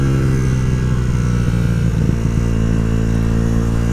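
A Yamaha YZF R125 motorcycle on a test ride, its engine giving a loud, steady, close-up drone with a brief rise in revs partway through, and no talk.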